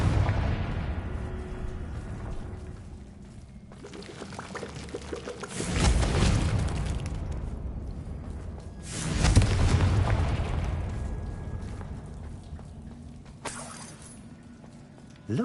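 Two big fiery Confringo blasts erupt in Hogwarts Legacy, each a loud booming burst that swells and slowly fades, a few seconds apart, with a sharp crack near the end.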